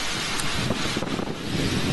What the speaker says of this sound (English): Pretty windy too in this point of the round.